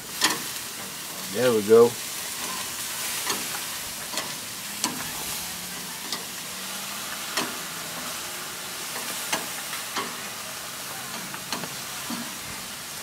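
Pastor pork sears in a hot pan with a steady, close sizzle throughout, plus a brief clatter early on and a voice speaking briefly.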